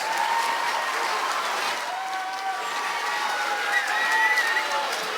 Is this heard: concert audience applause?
yes